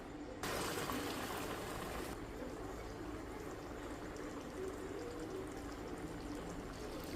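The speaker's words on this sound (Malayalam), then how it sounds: "നമ്മൾ പയറും ചവ്വരും കൂടെ വേവിച്ച് വെച്ചിട്ടുണ്ട് അത് അതിനകത്തോട്ട് ഒഴിച്ചു കൊടുക്കാം" Cooked green gram and sago poured into hot ghee in a pan, a steady close gushing, pouring wash that holds evenly for several seconds, with no talk.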